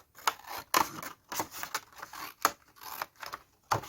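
Scissors snip through a paper bag to make a notebook insert and cover, giving about eight crisp, close cuts in an uneven rhythm with short pauses between them.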